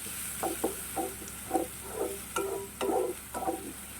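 Chopped jackfruit seeds with crushed shallots and curry leaves roasting in a pan over medium flame, giving a steady soft sizzle broken by repeated scraping stirs, close and moderately quiet, with no talking.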